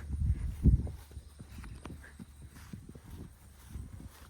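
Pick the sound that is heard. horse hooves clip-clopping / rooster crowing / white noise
horse hooves clip-clopping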